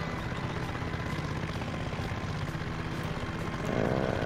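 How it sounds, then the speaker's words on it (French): Kamov Russian helicopter in the Farming Simulator video game, a steady loud droning engine and rotor hum that holds constant and swells slightly near the end, with no talking. "c'est un hélicoptère Kamov"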